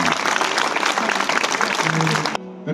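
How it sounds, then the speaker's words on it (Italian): Studio audience applauding guests on a TV news show, steady dense clapping that cuts off abruptly near the end. "Alessandra, un bellissimo applauso."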